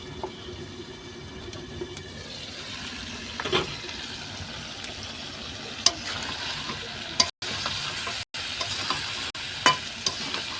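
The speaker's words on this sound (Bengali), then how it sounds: "তো আমি এইভাবে আস্তে আস্তে দিয়ে কষিয়ে নেব" Pigeon meat and potatoes are stirred and sautéed with spices for a curry. A steady sizzle runs under repeated scrapes and knocks of a spatula against the pan, with two brief dropouts near the end.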